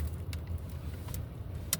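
A parked car's engine idles steadily and low, a continuous rumble with a few brief clicks and jingles on top, with dogs waiting inside on a warm 76-degree day.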